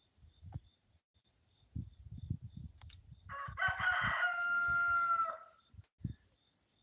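Roosters crowing one after another, a drawn-out crow rising clearly mid-way over a steady hum of insects and outdoor morning ambience, with brief scuffs and knocks nearby.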